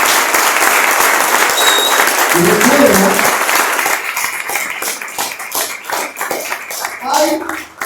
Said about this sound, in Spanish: Si lo creen, un fuerte aplauso al Señor.